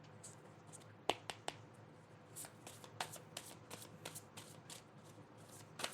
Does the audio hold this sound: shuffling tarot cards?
yes